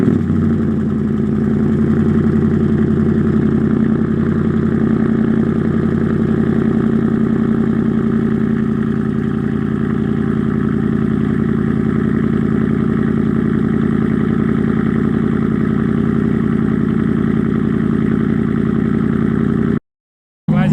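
A Ram 1500 pickup with BBK shorty headers and no resonators or muffler runs at a high cold idle after a remote start, a loud, steady, deep exhaust drone that cuts off abruptly near the end.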